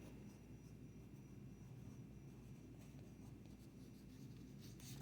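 A pen writes on paper, a steady soft scratching that runs continuously for about five seconds over low background hum, with no talking.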